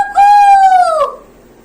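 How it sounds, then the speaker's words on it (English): A single rooster crow rings out close and loud, a drawn-out tonal call that drops in pitch at the end, then silence. "A cock. Cuckoo."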